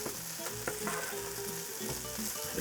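Garlic, onion, parsley and radicchio sautéing in a pan for risotto, with a steady close sizzle and hiss broken by repeated scraping stirs and light clicks of a utensil against the pan.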